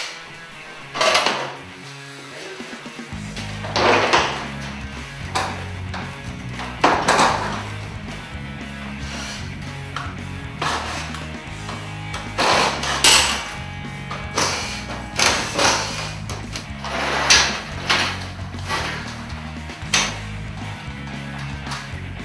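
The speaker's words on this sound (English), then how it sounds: "Now we're just going to start taking the door down panel by panel." Garage door panels being taken down during an installation job, with scattered heavy metallic thuds, clanks and knocks at irregular intervals over a steady low hum, fairly close and loud.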